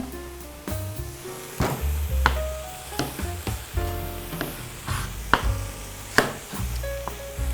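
Carrot, onion and other vegetables stir-fried in a pan, a steady sizzle broken by repeated sharp scrapes and knocks of a utensil against the pan, close and fairly loud with no talking.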